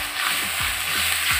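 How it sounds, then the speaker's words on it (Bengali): Spices and tomato paste sizzle and fry in a pan, a steady close hiss with a few soft stirring scrapes and no voices. "লঙ্কা হলুদ সব একটু একটু ভাজা হয়ে গেলে এবার দিয়ে দিলাম টমেটো বাটা"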